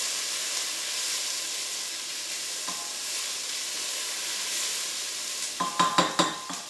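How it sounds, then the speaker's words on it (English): Red onions caramelising in a pan for chutney give a steady soft sizzle and hiss, with a few sharper stirring clatters near the end. "Once our onions are actually starting to caramelise like they are in the pan now"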